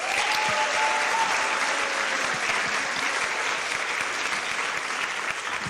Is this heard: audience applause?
yes